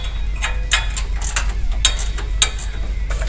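Ratchet wrench clicking as it loosens 10 mm screws holding Hauser bolts on a rear bumper of a Polaris RZR XP1000 or Turbo, several short bursts of sharp close metallic ticks in quick, uneven rhythm.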